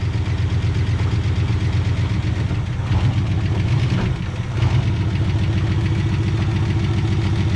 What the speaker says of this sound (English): Ah, she cranks and runs.